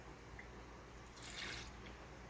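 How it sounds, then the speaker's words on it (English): Tap water runs briefly into a kitchen sink for handwashing during baking, a soft rising gush in the middle of an otherwise quiet, low-level moment. "so I'm going to wash my hands"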